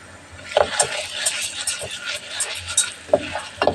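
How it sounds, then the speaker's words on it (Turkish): Meat and green beans sauté in a pan, a steady sizzle broken by repeated scraping stirs of a utensil against the pan, close and moderately loud. "Şimdi kavuruyoruz böyle."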